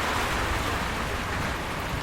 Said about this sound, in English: it's good that it's raining when we're eating